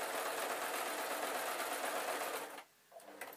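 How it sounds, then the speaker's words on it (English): A sewing machine stitches a straight line on fabric for storage boxes, a close, steady rapid whir that cuts off briefly near the end before a quieter restart. "So, straight line sewing,"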